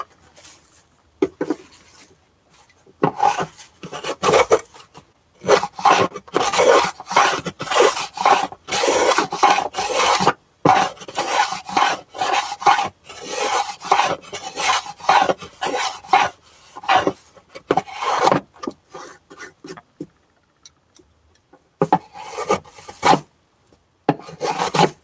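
Wood on an 1890 parlor guitar is shaved down by hand in repeated rasping, rubbing strokes that come in irregular bursts, close and fairly loud, with short pauses between passes and no talking.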